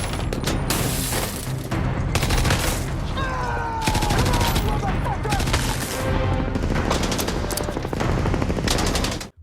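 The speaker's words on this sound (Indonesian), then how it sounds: "Dallas terus melepaskan tembakan dan mencoba menyerang dari jarak dekat." Rapid bursts of heavy gunfire from an action film, with machine-gun volleys and single shots tearing through the whole stretch in dense, loud, overlapping clusters, punctuated by brief pauses.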